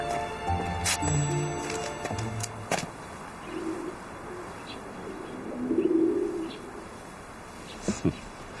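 Pigeons coo in soft, low, rounded calls against a noisy background of scattered clicks and bumps, with the cooing swelling briefly in the middle and fading again.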